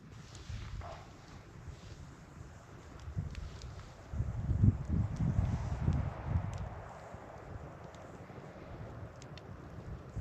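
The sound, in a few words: wind blowing at a snowy mountain campsite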